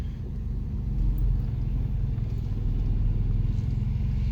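A car drives along a road just after a brake job, its steady engine rumble and tire noise droning on without any talk.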